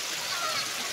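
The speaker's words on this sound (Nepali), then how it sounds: "साथीहरू अब यस्तो धाराले अब ट्र्याक्टर धुन थाल्यो" Water gushing from a hose onto a tractor during washing, a steady close splashing rush that runs for about a second and then stops abruptly.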